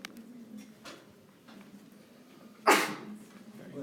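A single sharp sneeze bursts out in a quiet room during a genetics lecture, loud and close against faint background hum.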